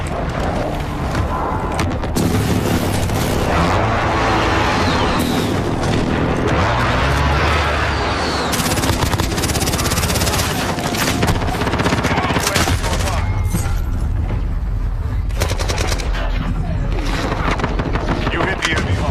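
In Call of Duty Modern Warfare on PC, an airstrike and a battle rage with loud, continuous gunfire, automatic bursts and heavy booming explosions, while voices talk over the din.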